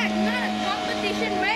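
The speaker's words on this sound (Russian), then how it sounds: "О, гоняют на катерах." Motorboats race along a jungle river in Taman Negara, Malaysia, giving a steady engine drone with a sustained low hum, while people chatter close by.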